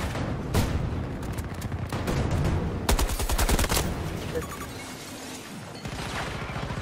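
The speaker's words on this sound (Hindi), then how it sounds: "अरे भैया सब मशीन गन निकालो सब मशीन गन निकालो" Battlefield 2042 gameplay with dense, close automatic weapon fire, including rapid submachine gun bursts, along with scattered shots and impacts from a busy firefight.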